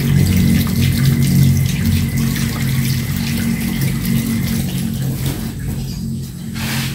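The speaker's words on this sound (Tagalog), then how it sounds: "Hugasan ko muna siya sa asin." Water from a sink tap runs in a steady, loud, close rush for the whole stretch while food is washed with salt under it.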